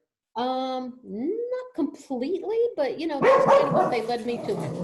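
A dog barks and yips in the background of an indoor podcast conversation. A single bark comes first, then the barks fall under ongoing speech from a woman.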